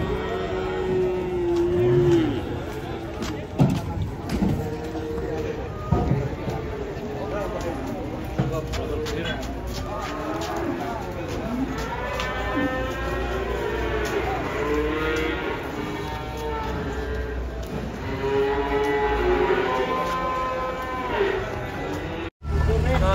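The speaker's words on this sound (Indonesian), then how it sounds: "Kedatangan sapi raksasa, guys." Giant one-ton cattle being unloaded from a truck, mooing repeatedly in long, drawn-out calls near and far, with people talking and shouting throughout over engine and crowd noise.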